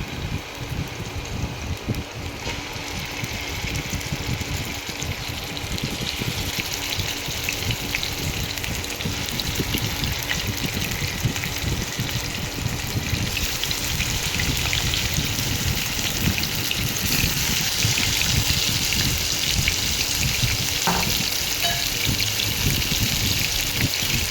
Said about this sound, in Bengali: তেলটা গরম হয়ে এসছে, এবারে মাছগুলো আস্তে আস্তে ছেড়ে দেবো